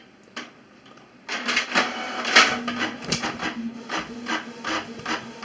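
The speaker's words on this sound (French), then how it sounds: "Je lance l'impression." A Canon inkjet printer runs a print job, giving a short quiet click and then a steady stretch of mechanical whirring with repeated rubbing, ratcheting pulses as the page feeds through, fairly close and heard alone.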